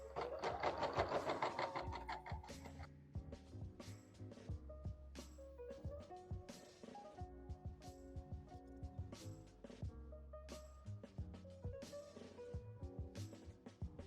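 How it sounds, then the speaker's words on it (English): BERNINA 5 Series sewing machine stitching a quilt edge to edge, a quiet rapid mechanical whir with ticking needle strokes that starts and stops in short runs. "needle down, and we can start to sew"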